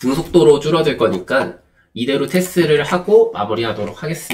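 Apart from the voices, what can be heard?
No everyday noises stand out.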